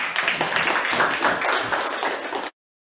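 A class of students in a teacher-training session claps together, a dense, steady burst of many hands that runs for about two and a half seconds and then stops abruptly.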